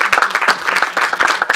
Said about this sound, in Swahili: Wapigeni makofi juu ya kufanya kazi mzuri.